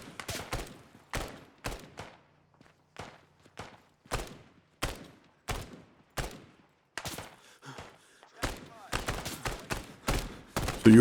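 Bursts of rifle fire crack out in Arma 3, a dozen or so sharp reports spaced irregularly across the stretch, some in quick doubles, with a faint low hum between shots and a dense volley at the end.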